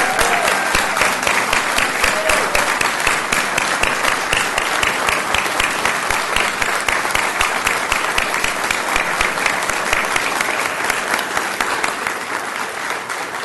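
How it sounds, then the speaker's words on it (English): An audience at a school board meeting applauds award winners of excellence, sustained dense clapping from many people lasting the whole stretch and tapering slightly at the end. "a hand of applause, please, for these wonderful award winners of excellence"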